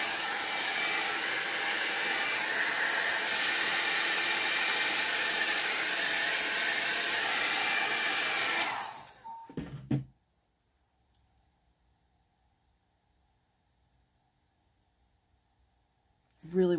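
A heat tool blows hot air over alcohol ink artwork with a loud, steady whooshing roar for about nine seconds, then switches off with a short clatter, leaving near silence before a faint burst at the end.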